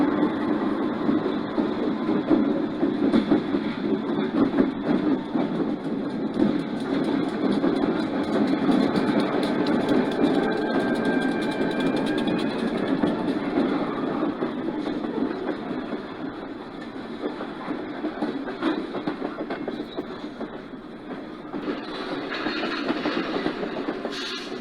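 A model train pulled by a pair of F7A diesel locomotives rumbles steadily along the track on a layout, with faint clicking wheels and motor hum, fading slightly toward the end, with no talking.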